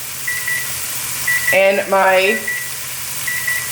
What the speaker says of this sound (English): the timer's going off to get the toast out of the oven